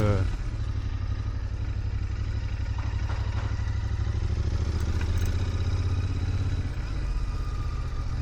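A motorcycle engine runs steadily at a low idle close by, a constant throbbing rumble with light clatter over it, during a ride around Mexico City.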